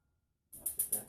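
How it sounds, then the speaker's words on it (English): A camping-style cooking stove being lit outdoors: silence, then a sudden hissing burst that swells into three quick surging roars as the flame catches, close and fairly loud. "We're gonna get our stove going."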